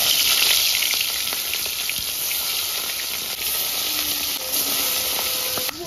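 Fish frying one by one in hot oil, a dense, bright, continuous sizzle and crackle at steady loudness, with a few light clicks, no talk.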